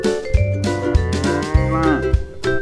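Cow mooing in long, drawn-out calls, three or four loud moos close by over a background of music, with no talk.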